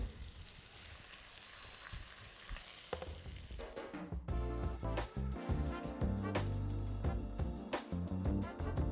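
Carrots, onion, ginger and garlic sizzle steadily in a pan for pumpkin cream soup, a soft continuous crackle heard alone at first before music comes in and largely covers it.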